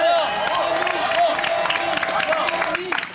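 Crowd at a live holiday TV show claps and cheers for a Miss contestant named Noémie, a dense, continuous roar of applause with excited shouts mixed in.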